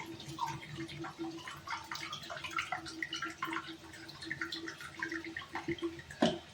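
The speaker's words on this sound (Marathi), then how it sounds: "थोडंच पाणी टाकते" Water pours into a cooking pot for dal in a home kitchen, giving light splashing and dripping with a brief louder splash just before it ends.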